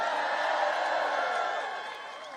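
Audience inside an Irish cathedral applauds and cheers for a mention of John F. Kennedy, a dense steady wash of clapping and crowd noise that holds loud, then eases slightly toward the end.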